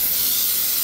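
Hair spray hisses in one steady, close burst during a short layered haircut at a salon, with no talk over it.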